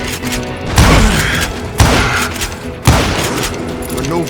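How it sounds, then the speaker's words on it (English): Three heavy double-barrel shotgun blasts boom about a second apart in the Call of Juarez Gunslinger video game, each loud report followed by a ringing, mechanical tail. "Robert Ollinger appeared with his terrible double-barrel shotgun"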